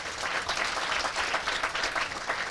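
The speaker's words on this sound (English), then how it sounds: "Clap for yourselves." A crowd at a Kenyan political gathering applauds, steady dense clapping from many hands at moderate distance, continuous with no talk over it.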